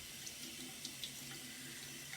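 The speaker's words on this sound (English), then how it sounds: "I'm putting it in the water and kind of working the water through the bristles just to make sure we're totally rinsed" Artist's paintbrush worked back and forth in a container of water to rinse out soap from the bristles, giving a soft, steady splashing and trickling close by with faint drips, no talking.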